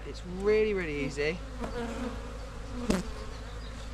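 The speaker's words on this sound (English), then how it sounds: "let the bees out from underneath it" Steady buzzing of honey bees from a hive box fills the background while a person speaks briefly over it, with a sharp knock near the end.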